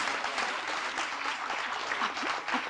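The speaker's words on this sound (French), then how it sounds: "vous pouvez applaudir effectivement notre grand témoin du soir" An audience claps steadily at a business awards ceremony in Corrèze, a dense, even round of applause from a hall full of people that continues without pause and with no voices over it.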